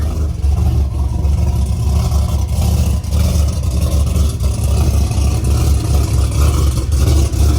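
An old Chevy truck with a 6.0 LS engine revs in a loud, continuous, throaty roar, heard up close and rising and falling slightly, with no talking.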